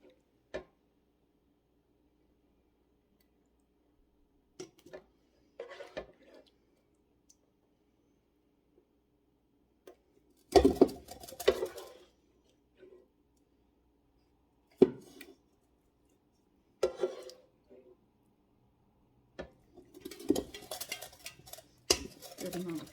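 Cooked hamburger meat being scooped out of a pan, sparse scraping and clinking of a utensil against the pan in short separate bursts between stretches of near silence.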